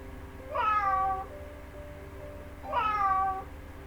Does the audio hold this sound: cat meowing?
yes